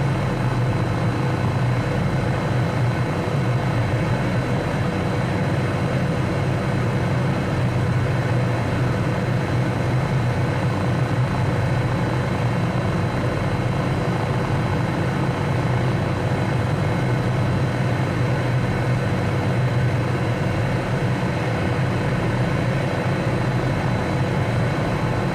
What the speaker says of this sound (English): Very powerful little helicopter.